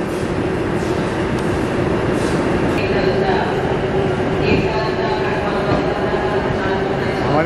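Local train at a Delhi station starting to depart, a loud steady rumble of the cars with a sustained engine drone and faint squeals, while someone talks over it.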